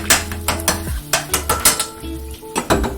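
Sausage frying in a pan for gravy, broken up with a utensil in quick repeated metallic chops and scrapes against the pan over a low sizzle, close and clear.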